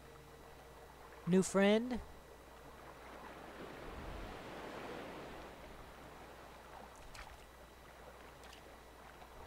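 A small boat glides across open water in the Little Nightmares 2 game, a steady wash of waves and lapping under a soft, hazy ambience, with a brief burst of speech near the start.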